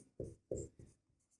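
Pen strokes on paper while writing out a table of plant counts during a class 10 maths lesson, four short close scratching strokes with brief pauses between them and no talk over them.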